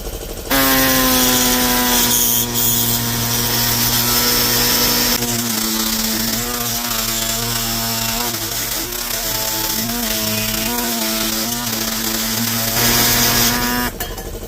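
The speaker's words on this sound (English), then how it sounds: "that's why they made power tools" A small single-cylinder Briggs & Stratton OHV engine runs steadily, loud and close, holding a constant droning pitch with a slight shift in tone partway through before cutting off near the end.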